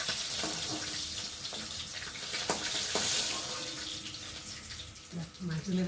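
Pieces of silver carp sizzle in hot oil in a pan, a steady bright hiss running throughout with small crackles and pops, fairly close.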